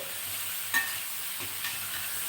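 Cauliflower curry frying in a pan, with a soft, continuous sizzle and a couple of faint stirring scrapes, no voices.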